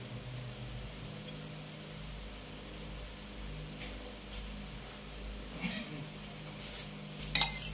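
Mayonnaise and lemon dressing for tofu is stirred in a bowl, giving a faint, steady scraping over low background hum, with a few sharper utensil clinks against the bowl near the end.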